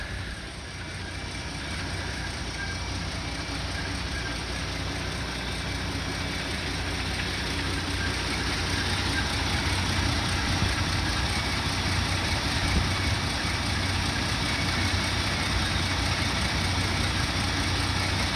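A Ford Granada with a 2.8 engine idles smoothly and evenly, a steady close hum that holds unchanged throughout.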